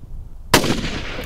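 A single close, loud rifle shot from a .300 Win Mag cracks out of near silence during a mountain nyala hunt in Ethiopia, followed by a rolling echo.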